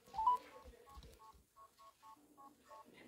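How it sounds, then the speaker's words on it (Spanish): Telephone keypad tones sound as a number is dialled, a quick series of short even beeps, faint and near, with a little background murmur at the start. "número de la doctora Martínez, lo vamos a llamar"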